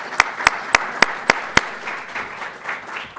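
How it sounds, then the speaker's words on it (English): An audience at an event welcomes David Nicol to the stage with applause: six sharp, evenly spaced claps ring out close by, then settle into a softer, scattered patter of clapping and room noise. "let's give a round of applause to David Nicol and let him take the stage"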